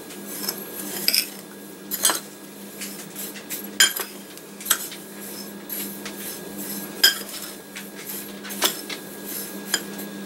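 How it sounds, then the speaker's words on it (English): Cornmeal and spices being mixed in a dish for fried green tomatoes: a spoon or fork scrapes and clinks against the dish in irregular strokes, a few sharper taps standing out over steady background hum. "Just mix that together so that the cornmeal gets through and all the spices."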